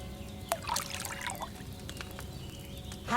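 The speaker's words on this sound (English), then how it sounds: "First, you have to pour the right base into the cauldron." Wine is poured into a cauldron in the video game Kingdom Come, a soft trickle and splash of liquid with a few faint clinks, quiet against low background noise.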